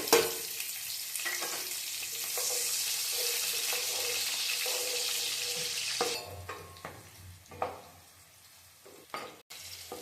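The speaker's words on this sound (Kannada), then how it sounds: "ಚಕ್ಕೆ ಹಾಕ್ತಾ ಇದ್ದೀನಿ ಇದು ಫ್ರೈ ಆಗಿದೆ ಈರುಳ್ಳಿ ಹಾಕೋಣ ಇದಕ್ಕೆ" Onions frying with cinnamon and cloves in a pan, heard as a continuous loud sizzle that drops off sharply partway through, followed by intermittent stirring scrapes and knocks.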